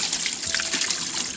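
Water used to wash beans being poured out, a steady trickling splash running close and continuous throughout.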